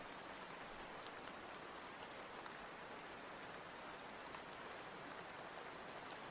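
Steady rain plays as a continuous, even hiss of drops on a surface, faint and unbroken throughout with no other sounds.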